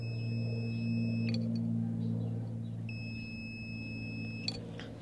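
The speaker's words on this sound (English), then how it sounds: "you could hear my meter beeping" Two sustained electronic beeps from a multimeter continuity test, each lasting over a second with a pause between, sounding over a low steady hum.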